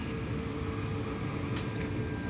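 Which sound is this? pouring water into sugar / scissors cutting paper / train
train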